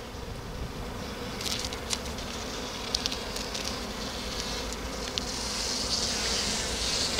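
Honey bees buzz around a small Apidea mating hive as a queen cell is added, making a steady, close, continuous droning hum that swells slightly toward the end.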